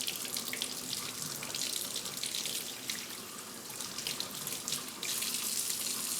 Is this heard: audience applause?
no